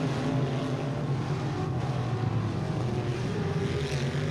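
Race cars roar around the dirt track at Tulsa Speedway, a continuous loud, rumbling engine drone with no break across the clip.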